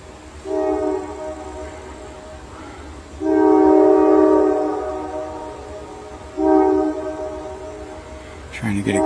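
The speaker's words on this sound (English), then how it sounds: "That guy's gonna blow his whistle like it's going out of style." Three long blasts of a train horn from a train rolling past in Conneaut, Ohio, each loud and close, over a constant low rumble of the passing cars.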